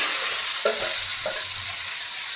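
Mango mixture for aam papad sizzling softly in a lightly oiled pan, a continuous faint fry with a few brief stirring scrapes, no talking.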